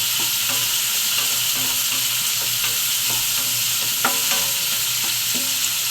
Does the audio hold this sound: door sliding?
no